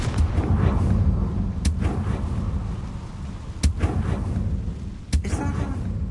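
In Hogwarts Legacy, a Confringo blasting spell sets off booming explosions over a rumbling, rain-like game ambience, with a few sharp cracking blasts standing out above the steady background.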